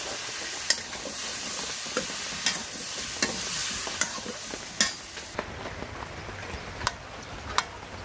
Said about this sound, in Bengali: পেঁয়াজ রসুন আদাটা দেব, এবার একটু মরিচ দিয়ে দিলাম।